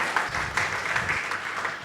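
Church congregation applauding during an online worship service, a steady moderate wash of clapping hands lasting the whole moment, with no voices on top.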